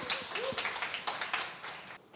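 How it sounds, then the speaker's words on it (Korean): Audience at a talk event clapping to welcome a speaker, a short burst of mixed hand claps from a modest crowd, fairly close and even, fading slightly at the end. "큰 박수로 맞이해 주시면 감사하겠습니다"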